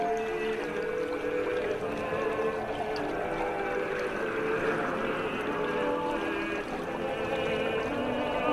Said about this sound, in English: I put Jada in the boat and rowed down the river towards the other side of Silka